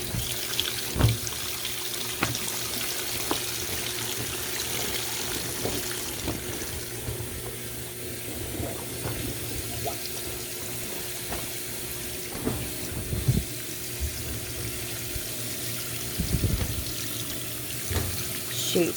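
Water pours steadily into a washing machine filling on a high water level for the whole stretch, a continuous close rushing hiss with occasional soft knocks.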